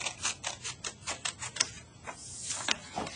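Scissors snip through paper in a quick series of short, crisp cuts, close and fairly quiet, with a brief pause midway before a few more snips.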